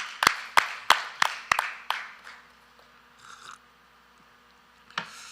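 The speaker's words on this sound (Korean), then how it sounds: "하나님께 박수를 영광." Loud, sharp claps ring out close by in a steady beat during a Korean Sunday church service, about six evenly spaced hits that fade out, then one last isolated clap after a quiet pause.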